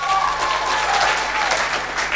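A brief, full round of audience applause rises at an innovation week showcase in Nairobi, a dense, even clatter of many hands lasting a couple of seconds.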